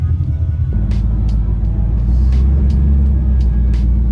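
A 1966 Chevrolet Impala fitted with air suspension drives around the block, a loud low engine rumble rolling steadily throughout, with a few short hissing bursts rising over it.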